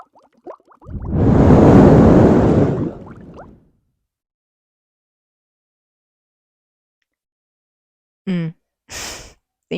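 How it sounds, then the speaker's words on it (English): One long, deep breath out lasting about three seconds, loud and close with a soft rushing tone, followed by silence and a few short vocal sounds. "Deep breath out."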